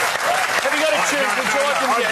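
A studio audience applauding a band, a dense, sustained burst of clapping filling the room, with a voice speaking over the top.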